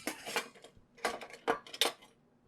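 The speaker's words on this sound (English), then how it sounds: "We're gonna go ahead and get out our bowl and run them through our potato ricer." Hot baked potatoes handled with a bowl and a small potato ricer give four short clattering bursts of metal and dish contact, fairly close, with pauses between and no talk.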